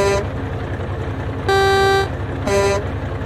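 Horn of a 1974 Hayes Clipper needle-nose logging truck, sounding three loud, deep tonal blasts, the middle one longest, over a steady rumbling diesel idle.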